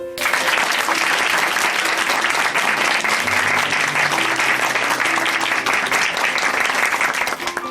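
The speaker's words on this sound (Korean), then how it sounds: "오늘 귀한 간증 전해주신 어머니께 다시 한번 박수 부탁드립니다." Sustained, dense applause from a church congregation for a woman who has just given a testimony, loud and steady throughout with a faint musical tone underneath.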